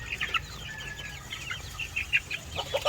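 Weak, sickly chicks checked late at night give rapid, high, faint peeps and small clucks in quick irregular bursts, close by, with no talk.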